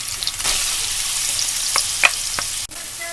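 Ginger and onion sauté in chicken fat in a pan for tinola, a bright steady sizzle with a few sharp spatula scrapes and clanks, near and without talk.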